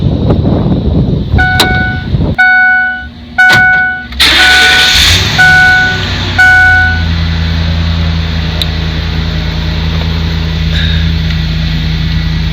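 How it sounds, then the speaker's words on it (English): Van engine cranking with a few short starter bursts and chime tones, catching on a later attempt and settling into a steady, loud, close idle rumble. "I'm gonna get ready to crank her up"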